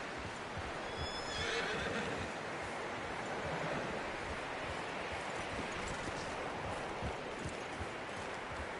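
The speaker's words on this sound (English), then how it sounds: "You should really tether that horse, Arthur." A horse in the Red Dead Redemption II video game gives a clear neigh early on, over a soft, continuous outdoor ambience like wind and distant surf that carries on to the end.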